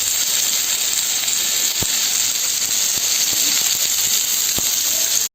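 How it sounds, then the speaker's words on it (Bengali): Spinach, vegetables and gram-flour fritters frying in a pan, a steady close hiss and sizzle that carries evenly for several seconds with a few faint ticks, then cuts off abruptly at the end. "এটা একটুখানি মতন ভেজে নেবো।"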